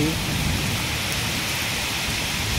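Heavy rain pours during a Kalahandi thunderstorm with strong wind, a dense, steady roar of water that fills the whole stretch, close and unbroken.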